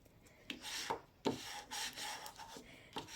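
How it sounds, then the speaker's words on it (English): A bone folder rubs firmly over glued paper on a floral card in short, close scraping strokes, several quick passes in a row. "if I rub it with my bone folder"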